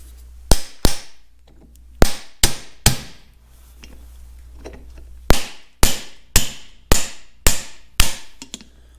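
A hammer strikes a driver tool to tap bearing races into a belt pulley drive on a prototype machine, giving sharp, loud metallic knocks in irregular clusters of single blows with short pauses between, close up and without speech.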